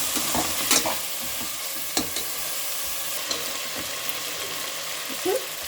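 Vegetables with mint, potato and peas frying in oil in a pan, a steady close sizzle with occasional stirring scrapes and clatters, moderately loud, no talk.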